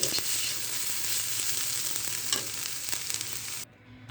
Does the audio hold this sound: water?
no